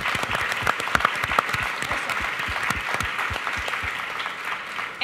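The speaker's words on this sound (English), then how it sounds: "can we get a great big round of applause for this panel?" An audience at a panel discussion gives a round of applause, many individual claps sharp and distinct, fairly loud and sustained without talk.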